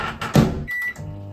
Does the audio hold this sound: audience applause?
no